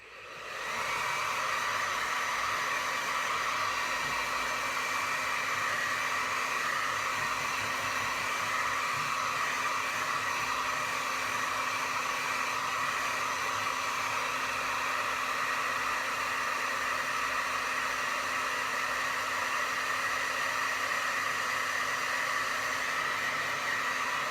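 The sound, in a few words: hair dryer drying paint on a clipboard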